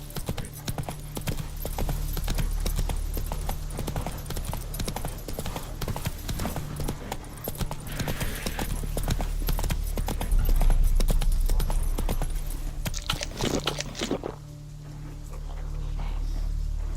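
Geralt's horse Roach gallops in The Witcher 3, hoofbeats drumming in a fast, continuous rhythm close up, with a low rumbling ambience beneath and a short easing-off near the end.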